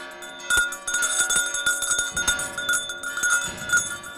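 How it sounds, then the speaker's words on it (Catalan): Church bells peal in a fast festive ring for a town's festa major, overlapping loud metallic strikes with long ringing tones filling the whole stretch, close and dense. "està sonant les campanes ara mateix"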